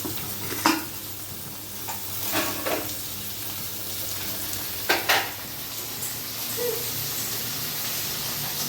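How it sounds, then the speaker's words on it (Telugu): Tomato and curry leaves fry in hot oil with a continuous sizzle, broken by several sharp scrapes and knocks of a spoon stirring against the pan, close and clear, no talking. "టమాటో వచ్చేసి మెత్తగా ఉడికేదాకా ఫ్రై చేసుకోవాలి"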